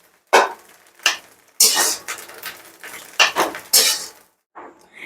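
Metal utensil scraping and clinking against a wok as a fried egg is scooped into a bowl for street-style egg chowmein, a series of sharp, close scrapes and knocks with brief pauses.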